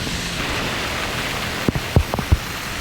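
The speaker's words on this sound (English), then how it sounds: "it is not pouring, but it's not drizzling. It's kind of just a medium rain." Medium rain falling steadily at the seawall in Kailua-Kona, Hawaii, during a hurricane, a constant wash of drops with a few brief louder splashes or taps near the end.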